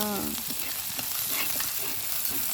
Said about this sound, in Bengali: এখন আমি এই রসুনগুলো হালকা ভাজবো